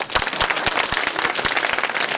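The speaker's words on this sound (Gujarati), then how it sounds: "આવા તમે હારા મળ્યા તો એકવાર તમારી તાળીઓ પાડી નાખો" A live audience applauds Gujarati comedian Bhagirath Rathod: dense, even clapping from many hands, fairly loud and sustained for about two seconds with no pause.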